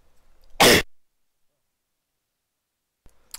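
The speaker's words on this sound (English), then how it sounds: "I just sneezed" A single sharp sneeze from someone who is a little sick, loud and close, bursting out briefly and then giving way to near silence with a faint rustle at the end.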